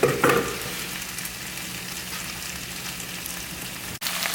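Homemade breakfast potatoes fry in a pan on high heat with a continuous crackling sizzle, close and steady, a louder burst of stirring at the very start and a brief dropout near the end.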